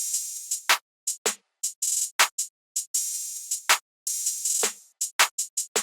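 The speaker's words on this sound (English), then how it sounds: "Then after that, I used the Luca openhat and laid down this pattern," A programmed open hi-hat pattern from a Luca open hat sample, in a trap-style beat, rings out alone as sharp bright hits of varying length with short and longer sizzling tails in an irregular rhythm.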